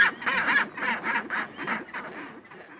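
Penguin calls in a rapid series of raucous, honking bursts, several pulses close together, loud and near, with no talking.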